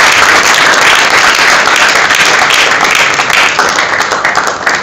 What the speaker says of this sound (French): Est-ce qu'on peut applaudir pour l'artiste